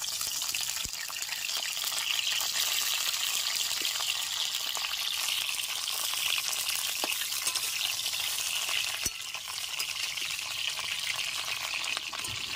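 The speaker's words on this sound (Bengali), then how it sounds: "সমস্ত সবজিগুলিকে একটু ভেজে নেব।" Cauliflower, potato and other winter vegetables fry in a pan for a rice khichdi, giving a steady, loud hiss and sizzle throughout with a few faint clinks of stirring.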